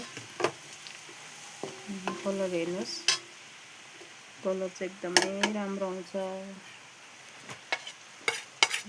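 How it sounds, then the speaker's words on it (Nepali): Dry spices sizzle and fry in a pan with scraping stirs and clinks, while someone talks over it. "म अब यसमा ड्राई मसला हाल्छु। हेर्नुहोस्, यसलाई पनि अलिकति भुट्नुपर्छ"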